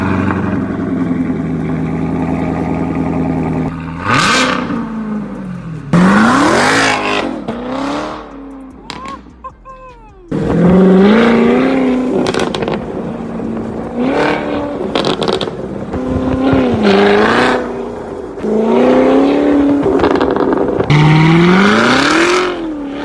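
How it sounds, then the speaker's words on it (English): A wrecked and rebuilt 2024 Nissan GT-R fitted with a Corsa valved exhaust revs hard in a driveway, with loud repeated throttle blips rising and falling over a rumbling idle, close and alone. "that right there is the perfect sound for this car with that new Corsa valved exhaust"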